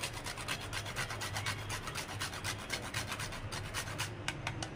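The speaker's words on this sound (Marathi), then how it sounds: "हे जे आहे ते जायफळचं थोडंसं किसून घेऊया" Whole nutmeg rubbed against a grater for carrot halwa, a quick, even rasping stroke repeated many times in a steady rhythm, close and soft, with no voices.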